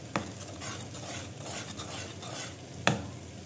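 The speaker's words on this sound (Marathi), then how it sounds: "मिक्स करायचं मस्त छानपैकी" Palak paneer gravy being stirred in a pan, dhaba style: a steady close scraping and swishing runs throughout, with two sharper clinks of the spoon against the pan near the start and end, and no voices.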